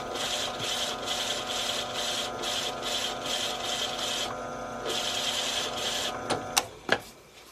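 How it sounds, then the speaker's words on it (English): A drill bores through a rubber sheet into plywood with a quiet, steady grinding whir that pulses slightly, pauses briefly, then ends with a few sharp clicks. "Keep drilling until you see the tip of the drill bit cut into the plywood."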